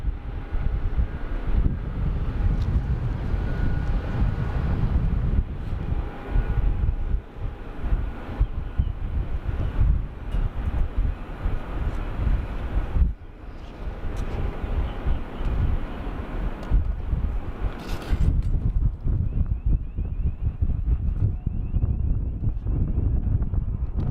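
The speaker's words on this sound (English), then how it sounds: "You can hear the Jetstar." Jetstar passenger jet at Sydney Airport, a broad low rumble of engine noise mixed with wind buffeting on the microphone, continuous and fairly distant throughout.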